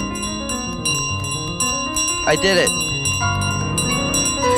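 A bell in Untitled Goose Game rings with bright sustained metallic tones under game music, while a player speaks briefly over it partway through.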